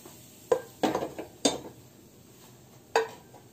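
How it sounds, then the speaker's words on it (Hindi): A spoon knocks against a bowl while hot oil is mixed into semolina, giving four or five sharp clinks and scrapes at uneven intervals. A soft, quiet stirring rustle runs between them. "सूजी में तेल को अच्छे से मिला लें।"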